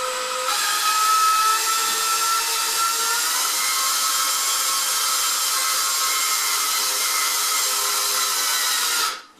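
Power drill driving a screw into a wall to hang a Kohler mirror, one steady, loud whirring run for about nine seconds before stopping abruptly.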